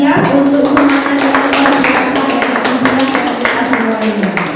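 Applause at a school event at SMPN 3 Limbangan, a hall full of people clapping in a dense, steady patter that carries on for several seconds, close and loud, with a sustained tone sounding underneath.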